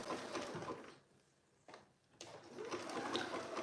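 Sewing machine stitching a sweatshirt seam: a soft, fast whirring hum of the motor and needle, pausing briefly in the middle before running steadily again, faint and close.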